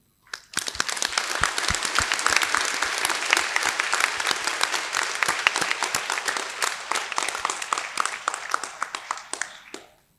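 A large graduation-ceremony audience in a hall applauds steadily for about ten seconds. Dense clapping starts abruptly, holds loud and even throughout, with sharp individual claps standing out, then fades near the end.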